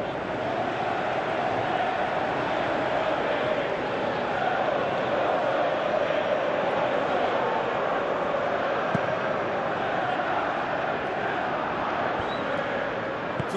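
Stadium crowd at a Manchester City vs Napoli Champions League match in PES 2018, a steady dense roar of spectators throughout, with commentary voices underneath.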